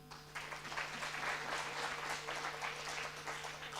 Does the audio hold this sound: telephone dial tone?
no